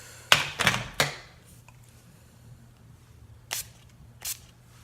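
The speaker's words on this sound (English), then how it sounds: "I'm going to take my NYX matte finish spray, and I'm going to spray the brush before I pick up product." A pump bottle of NYX matte finish setting spray fires three quick hissing bursts close by onto a makeup brush, followed by a quiet pause and two softer single sprays.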